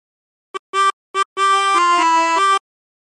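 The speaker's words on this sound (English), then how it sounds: "how to play it on a tremolo harmonica with 16 holes" A 16-hole tremolo harmonica plays the opening phrase of Battle Hymn of the Republic, with a few short notes followed by a longer held run of shifting reedy tones. Close and clear, heard alone against silence.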